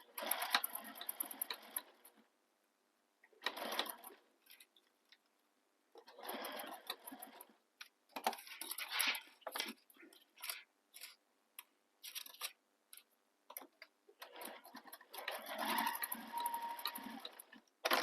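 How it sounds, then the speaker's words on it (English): A sewing machine stitches a small X inside a box on a quilted handbag in short, repeated runs and stops, close and fairly quiet, with pauses between bursts. "You can sew a little X in the box"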